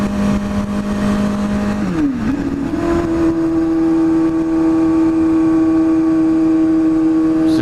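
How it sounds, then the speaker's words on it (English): Motorcycle exhaust while riding on Melbourne streets, a loud, steady engine drone with a pitch dip and rise as the rider shifts, then holding a constant hum under wind noise; no talking. "This exhaust is so noisy to cruise around on."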